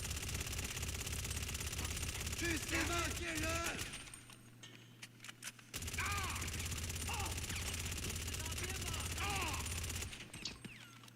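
Rapid automatic gunfire in GTA 5 Online, sustained bursts of mag-dumping shots with a brief lull midway, mixed with game sounds and music and occasional voices.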